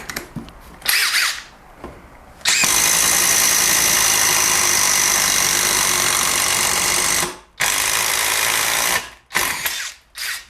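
A Kyocera cordless impact driver with a different Onishi bit drills into wood. Short revving bursts lead into a long, loud, continuous motor whine of about five seconds, followed by a couple of quick trailing bursts, close and without speech.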